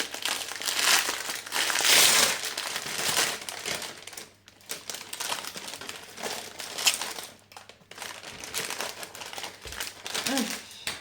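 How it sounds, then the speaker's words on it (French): Plastic packaging of a diamond painting kit crinkling and crumpling loudly up close as it is unwrapped, in bursts with short pauses. "vous bouchez vos oreilles, je déballe"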